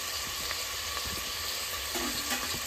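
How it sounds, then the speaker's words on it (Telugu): Vegetables for a vegetable pulao sizzle steadily in a pan, a soft, even frying hiss with faint stirring scrapes, quiet and close with no talking. "ఇలా కొద్దిసేపు వేయించుకోవాలి."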